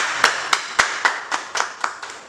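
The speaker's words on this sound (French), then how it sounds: "nous allons le recevoir avec des acclamations" Nine sharp, evenly spaced hand claps ring out one by one at a steady, moderate pace, loud and close, with no voices over them, as an audience welcomes a singer onto a French-language TV show.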